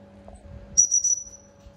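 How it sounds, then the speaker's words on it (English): A dog recall whistle sounds in three quick shrill bursts, clear and fairly close, against a faint low hum. "now I'm gonna use our recall whistle."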